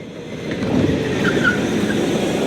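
A race car loses traction during a race, a loud engine roar rising with a faint high tire squeal over it, close and without talk.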